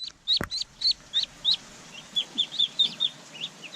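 Close, high, thin peeps from a duckling on a farm come in a quick series of about a dozen short calls. One sharp click sounds near the start over a faint, quiet background.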